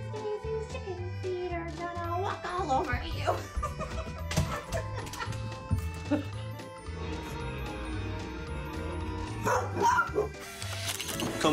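Dogs bark in short bursts over loud, busy background music with a few other noises mixed in.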